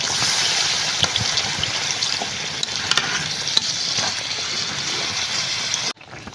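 Sautéed chicken in a pot for chicken biryani, with water just added, giving a loud, steady hiss and bubbling sizzle with occasional spoon clicks, close and constant until it cuts off near the end; no voices.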